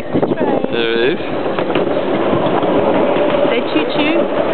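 Riding aboard a train on a seaside holiday in Beer, with a steady rumble and wind rush throughout, while a woman and a child chatter loudly over it.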